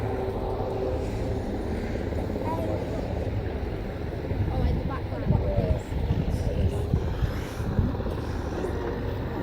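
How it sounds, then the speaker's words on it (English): Royal Navy aircraft fly in low over the Yeovilton air day 2015 commando assault finale, a steady, loud engine roar filling the whole stretch with crowd and outdoor noise underneath. "the aircraft will come in and take a bow"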